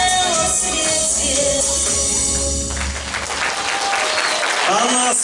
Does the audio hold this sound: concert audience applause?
yes